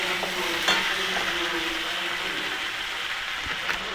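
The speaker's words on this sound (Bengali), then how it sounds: "একটুখানি ভেজে নেব" Lentil dumplings (bori) frying in a pan, giving a steady close sizzle with scraping stir strokes throughout and no talk.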